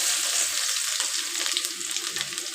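Whole spices, cloves, cinnamon and fennel, with crushed garlic dropped into hot oil and frying with a steady, loud, close crackling sizzle and a few light stirring clicks.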